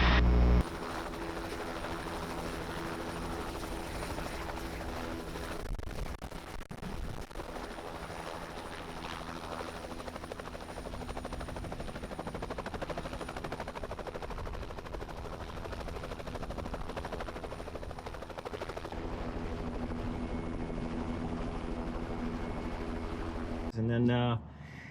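A training helicopter hovers with a steady, loud rotor and engine roar that holds throughout, heard from inside the cabin.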